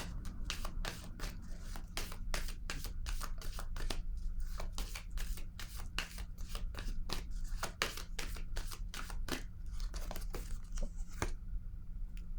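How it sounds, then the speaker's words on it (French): Tarot cards are shuffled and handled in a quick series of crisp flicks and slaps, dozens of close, sharp card sounds in irregular bursts without speech. "Je vais déposer une carte, là."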